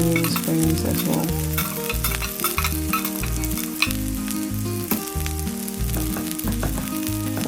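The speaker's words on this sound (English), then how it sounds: "I'll just stir this and then our food is ready" Rice with chicken and fried vegetables stir-fried in a pan, steady sizzling under repeated rhythmic scraping strokes of a utensil, close and fairly loud, with no talking.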